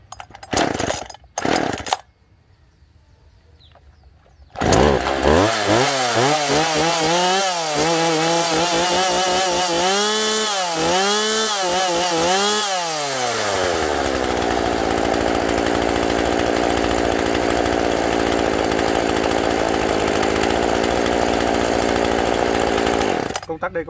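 A Husqvarna 136 chainsaw starts after a few short pulls, revs up and down several times, then settles into a steady, loud, close idle that runs on alone.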